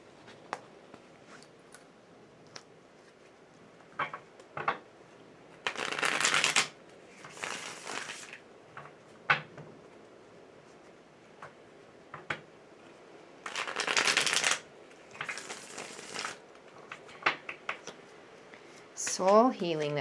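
A Thoth tarot deck is shuffled in short, soft bursts of riffling cards separated by quiet gaps, with small taps and rustles between them, close and fairly quiet.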